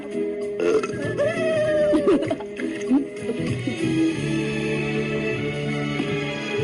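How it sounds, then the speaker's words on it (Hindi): Cartoon burps in a burping contest between animated goats, a run of loud, drawn-out belches with rising and falling croaks, close and dominant, lasting several seconds with little other sound. "जिसने पहले डकार ली वो जीता"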